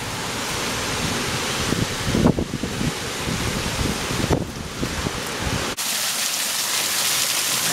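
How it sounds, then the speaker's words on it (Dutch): Steady heavy storm rain, the first after four months of drought, with gusting wind roaring across the microphone, a dense continuous wash of noise with brief louder surges. "En daar is eindelijk de eerste regen, maar het komt wel met de storm."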